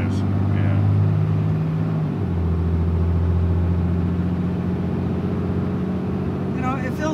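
Cab of a Ram 3500 pickup towing a camper with an anti-sway bar: a steady, low engine drone with road rumble that drops slightly in pitch partway through.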